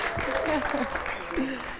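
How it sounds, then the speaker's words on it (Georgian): Studio audience applause at a late-night television talk show, a dense wash of clapping that runs the full moment under a host's voice speaking over it. "და ეს აპლოდისმენტები თქვენ."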